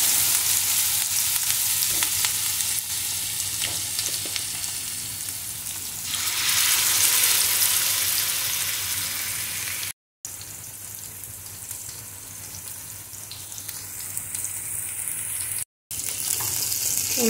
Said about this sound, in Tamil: ஆயில் சூடாகிடுச்சு. இப்போ நான் மீனை போட்டுக்கிறேன்.